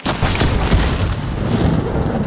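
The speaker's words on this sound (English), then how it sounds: "the explosion from the explosive ammo will damage items" Explosive ammo blasts in Hunt: Showdown, a loud, dense rumble of booms and crackling detonations that continues without pause through the short span.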